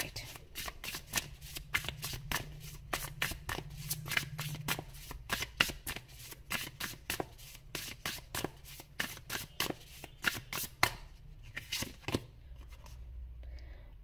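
A deck of tarot cards is shuffled by hand in rapid, crisp riffling bursts for several seconds, then the shuffling slows to a few final taps near the end.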